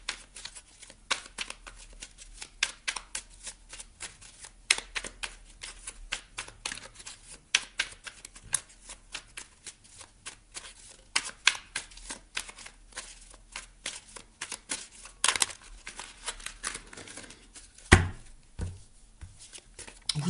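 Oracle cards being shuffled by hand in a quiet room, a long run of quick, crisp riffling flicks and slaps with irregular bursts, close and fairly soft, with no talking.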